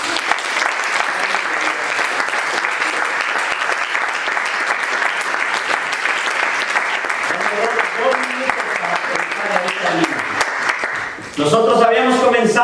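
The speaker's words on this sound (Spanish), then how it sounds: "Dale un aplauso al Señor." A church congregation breaks into sustained, dense applause that fills the room, with voices and a swell of singing or cheering rising near the end.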